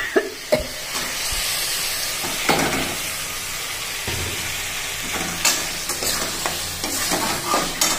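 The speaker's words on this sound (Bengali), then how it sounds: "দেখুন আমার মশলাটা কষা হয়ে গেছে, এবার আমি মোচা সিদ্ধটা দিয়ে দেবো।" Boiled banana flower tipped into a pan of fried spices for a Bengali banana flower and potato curry, stirred with a spatula amid steady sizzling hiss, with scraping knocks of the utensil against the pan throughout.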